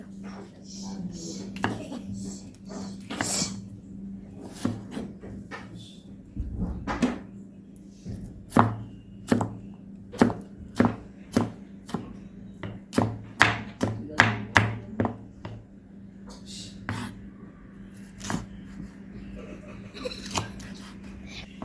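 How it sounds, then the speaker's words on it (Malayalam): A knife chops half a capsicum on a cutting board for a chicken bread pocket, first in scattered cuts and then in a quick run of sharp, evenly spaced taps, with a faint steady hum beneath and short soft murmurs between the cuts. "അപ്പോൾ നമ്മൾ ക്യാപ്സിക്കം അരിഞ്ഞിട്ടുണ്ട്."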